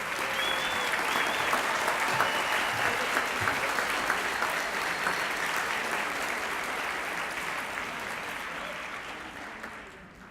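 A large crowd applauding graduating seniors at a school academic awards ceremony, a dense, sustained wash of clapping that holds steady and then gradually fades toward the end.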